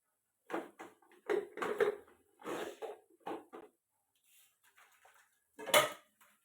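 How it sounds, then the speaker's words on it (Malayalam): Leftover kitchen dishes being washed, with intermittent bursts of clattering pots and utensils that come in uneven clusters and then pause briefly, close and fairly loud. "ബാക്കിയുള്ള പാത്രങ്ങളും കൂടി കഴിയും"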